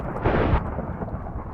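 A brief, loud, deep rumble of thunder from a real storm rolls in, then settles into a low broadband wash, heard alone without voices.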